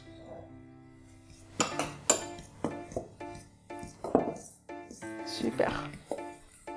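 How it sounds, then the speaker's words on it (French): Spoon or spatula scraping and knocking against a bowl while vegan chocolate cookie dough is mixed, a run of irregular clinks and taps, close and moderately quiet, with a voice talking in between. "Et tu peux mélanger."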